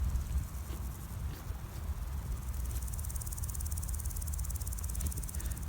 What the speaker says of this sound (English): I'm not sure if it's a grasshopper or a cricket.